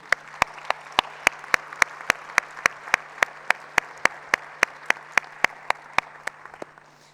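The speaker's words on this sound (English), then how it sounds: "Let's give them a round of applause." Applause closes a panel event on financing for noncommunicable diseases: a single, crisp, evenly spaced run of about two dozen sharp claps, steady in tempo and fading slightly at the end, with a faint hum underneath.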